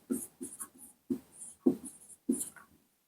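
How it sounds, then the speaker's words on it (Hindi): Pen or pencil scratches across paper in short, separate strokes, close and fairly quiet, as a maths question is written out by hand, with brief gaps between the marks. "पहले क्वेश्चन लिख देता हूँ।"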